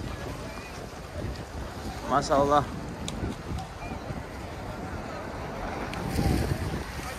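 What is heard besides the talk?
strong wind blowing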